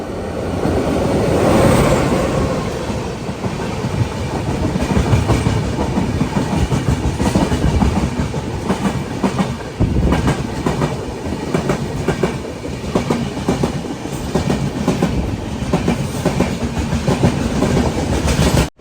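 A MEMU commuter train bound for Bengaluru airport rolls along steadily, its continuous loud rumble and rhythmic clickety-clack of wheels over rail joints filling the cabin throughout, with no talking.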